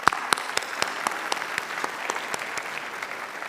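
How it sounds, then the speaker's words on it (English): Scattered applause from an audience of family and friends at a graduate school hooding ceremony, sparse individual claps at a steady pace, with a few distinct nearby hand claps over a quiet hall. "let's give them a round of applause"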